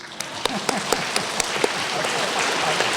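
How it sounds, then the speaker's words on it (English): A conference audience clapping with the less dominant hand on top, a rhythmic run of fairly distinct, spaced claps from the crowd that loosen and fade toward the end. "now I'd like you to clap again, but with your less dominant hand on top, please"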